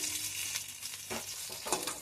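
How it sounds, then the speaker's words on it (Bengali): Eggplant slices frying in a pan, a soft steady sizzle with a couple of brief stirring scrapes, close but fairly quiet, with no talking. "এদিকে বেগুনগুলো আমি ভেজে নিচ্ছি"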